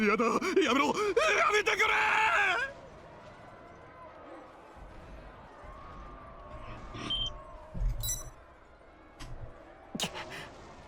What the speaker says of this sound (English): Screams behind me.